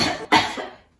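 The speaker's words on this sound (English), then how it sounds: "turning their arm in and coughing" A single sharp cough muffled into the crook of an elbow, close and short, trailing off within a second.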